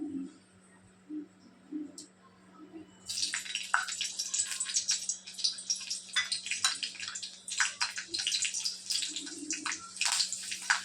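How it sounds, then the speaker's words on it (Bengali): Dried chilies hit hot oil in a home Bengali kitchen, bursting into a loud, crackling sizzle after a few quiet seconds, with dense popping spatter that continues to the end over a steady low hum. "এবারে আমি দুটো শুকনো কাঁচা লঙ্কা দিয়ে দিলাম।"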